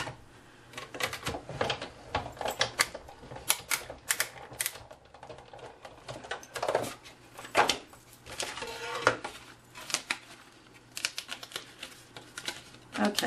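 Big Shot die-cutting machine running cardstock layers through its rollers, producing a series of sharp clicks, clacks and cranking rattles in uneven bursts, close and moderately loud, with no talk.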